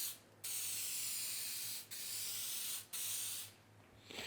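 Glue sprayed onto a car's interior in three bursts of close, bright hiss separated by short pauses, the last trailing off quietly.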